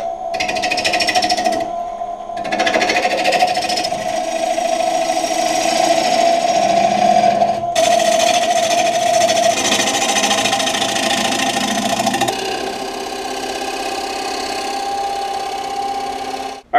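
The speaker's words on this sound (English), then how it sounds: "So I'm gonna go ahead and turn a tenon." A wood lathe turning a tenon on a bowl blank, a loud continuous motor hum with a rapid rattling chatter from the tool, briefly dropping out twice, steady throughout with no talk.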